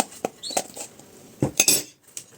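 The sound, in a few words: mixing pie batter after adding baking powder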